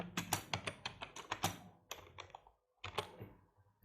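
Arduino code being typed on a computer keyboard: close, rapid clusters of key clicks in uneven bursts, a brief pause, then a few more taps.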